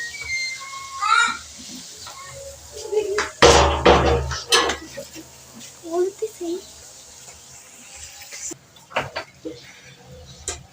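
Tomatoes and potatoes being stirred and fried in a pan for a tomato potato masala, with loud intermittent clanks and scrapes of a spoon against the metal pan, a soft frying hiss beneath, and a voice speaking in between.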